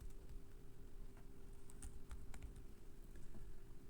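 Fast keyboard typing during a Windows bare metal recovery demo, a run of light, rapid keystrokes sitting over a steady low hum, with no one talking.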